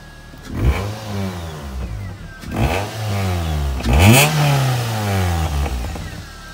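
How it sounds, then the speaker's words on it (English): A Ford Fiesta ST150 fitted with a straight-through exhaust centre section revs up sharply several times, rising and falling in pitch with a throaty exhaust note, close by and loud. "Sounds all right when you give it a rev"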